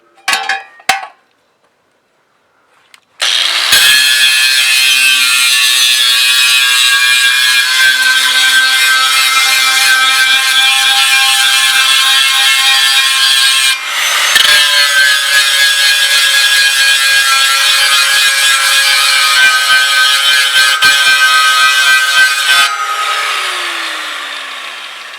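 Angle grinder cutting and cleaning steel for a hitch-type motorcycle luggage rack, a few short taps then a loud sustained high whine with a brief dip midway, close and steady, winding down at the end.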